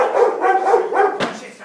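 An Airedale terrier barks and growls in a loud, close burst of rough rising yelps, with a sharp snap near the end and no talk.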